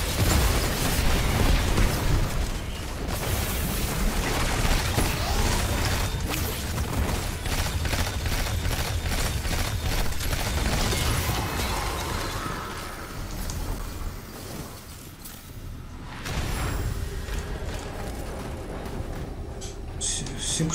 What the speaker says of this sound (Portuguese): Cinco tiros de bazuca